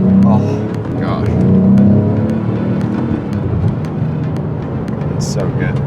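A Porsche 911 of the 997 generation revs its engine, a moderate rising drone under a person talking throughout.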